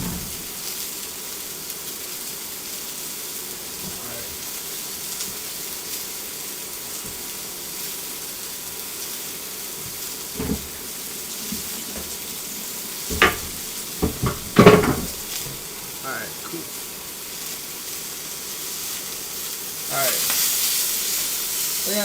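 Food sizzling in a pan for a corn and seafood risotto, a low steady fry running throughout, broken by a few clattering knocks and scrapes partway through, with rinsing water toward the end.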